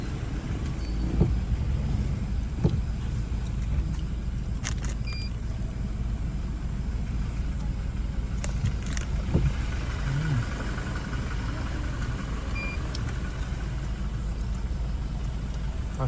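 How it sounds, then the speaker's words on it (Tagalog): Vehicles held up by a pile-up of more than ten vehicles in Nabas, Aklan roll past at night: a steady low engine rumble and road hum with occasional sharper clicks and knocks, and no one speaking. "Naantalang mga sasakyan."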